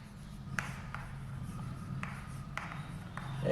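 Chalk or marker scratches across a board in a lecture room, with a few short, sharp strokes spaced out over a steady low room hum.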